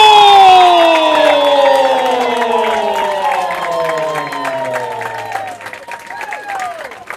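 Football crowd at an NPSL match between Port City and Appalachian FC roars and cheers after a free kick goal, a loud sustained wash of voices with whistles and rising shouts, fading slightly over several seconds.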